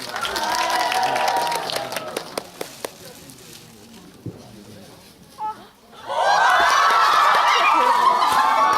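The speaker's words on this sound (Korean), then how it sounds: "박수로 환영 부탁드립니다" Audience applause welcoming a director and actors for a stage greeting at a film screening of Inside Me, clapping at the start that dies down to quiet murmuring, then swells again into loud, full clapping.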